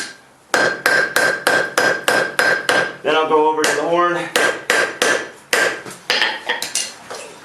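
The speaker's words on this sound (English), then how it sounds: "I'm hammering with the poking end down." Sharp metallic hammer strikes ring out in a steady rhythm as a blacksmith forges a basket twist fire poker, pausing briefly while someone speaks, then resuming with quicker, lighter taps.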